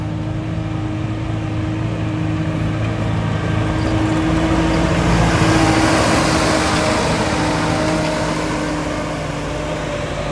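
A Solis 110 HP tractor engine idles close by, a low droning hum with even harmonics and a slight swell midway, no voices over it.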